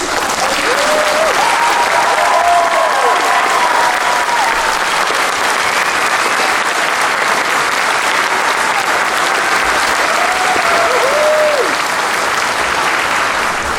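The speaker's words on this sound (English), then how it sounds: "can we please give an applause to Mr. Taylor for everything he did" A crowd at an elementary school instrumental spring concert gives sustained, loud applause lasting the full fourteen seconds, with a few cheering voices rising briefly over the steady clapping.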